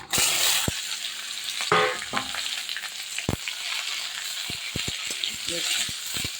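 Mixed vegetables drop into hot oil and burst into a loud crackling sizzle, followed by scattered clinks and taps of a utensil against the pan over a continuing fry.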